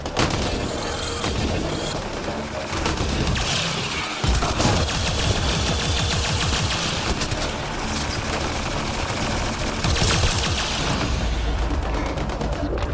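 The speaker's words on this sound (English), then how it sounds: "It's a Mattock rifle using remnant technology, so it fires a constant beam" Mattock rifle built on remnant technology in Mass Effect Andromeda, firing in loud, dense sustained bursts with rapid crackling and booming impacts filling the scene, close and continuous.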